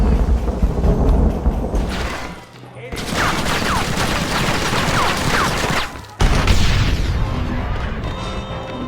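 Heavy booming cannon blasts and rumbling gunfire roll continuously in a dense, loud battle din in Red Dead Redemption at the gates of El Presidio, with sharp cuts between bursts and a voice faintly underneath.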